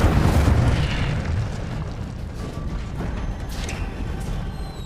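Incendio fire spell cast in the Hogwarts Legacy video game: a loud, continuous roaring whoosh of flame with a booming low rumble that gradually eases off.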